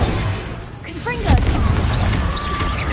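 A Confringo blast spell explodes in Hogwarts Legacy, a sharp boom with crackling bursts amid game effects, mixed in with a voice and spell chimes.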